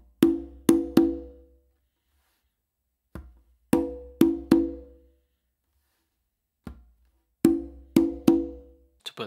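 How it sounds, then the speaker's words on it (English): Conga funk pattern played by hand: sharp close slaps, soft ghost notes and ringing open tones in repeating groups of three strikes, each phrase separated by brief pauses and a faint ghost tap, close and clear with no talking. "Then what I do is two opens with my dominant hand on the conga"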